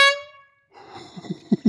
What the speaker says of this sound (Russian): достал гудок